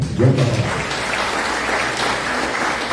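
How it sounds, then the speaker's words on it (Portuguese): A church congregation applauds loudly together at an evening worship service, a thick, steady round of clapping that carries on without speech over it. "aqueles que creem na palavra de Deus, aplaudam aí"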